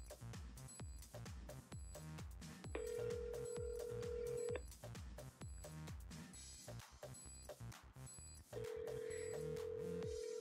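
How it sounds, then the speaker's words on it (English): Phone ringing on an outgoing call, a repeating ringback pattern with long steady tones between rhythmic pulses, fairly faint and with no talking. "Basically, I'm going to be trying to call him."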